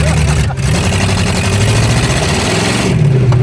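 A Suzuki Samurai fitted with a junkyard 440 big-block V8 rumbles loudly and steadily at close range, its deep engine drone continuous throughout with a slight rise in pitch toward the end, while voices talk over it.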